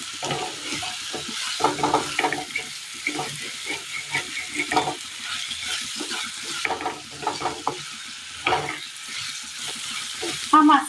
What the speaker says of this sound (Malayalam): മസാലകളൊക്കെ ഒന്ന് മൂപ്പിച്ചെടുക്കണം.